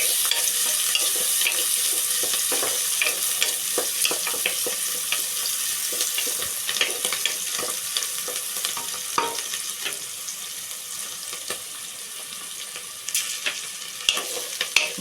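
Potato and brinjal curry frying with curry leaves and spring onions, a loud continuous sizzle broken by frequent stirring scrapes and small clicks, close and alone without voices.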